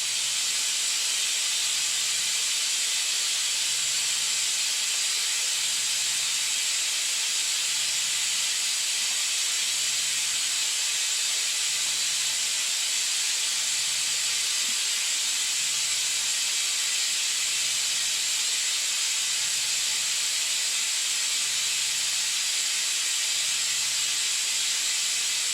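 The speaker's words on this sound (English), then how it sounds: "Okay, so we let the compressor recover." An air compressor runs while recovering pressure, with a constant steady hiss over a faint low pulse that repeats at a regular beat, continuous and unaccompanied.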